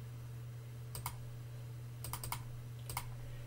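Computer mouse clicks come in quick pairs, several double-clicks sounding sharp and close over a steady low electrical hum.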